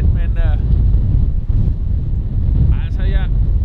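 Strong wind gusts buffet the microphone aboard a heeling sailboat near Kolding and Fredericia, winds above 15 metres per second, a loud, continuous roaring rush with brief voice-like tones at the start and end.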